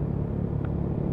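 Exhaust of a Honda Mio i 125 scooter while riding, a steady low rumbling drone that stays even and loud throughout with no talk.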